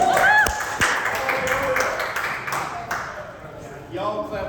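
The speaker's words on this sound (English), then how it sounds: "Y'all clap louder for Mickey than me" An audience claps for a guest at a live event, a few sharp claps standing out over crowd noise and voices, then fading as someone begins to talk.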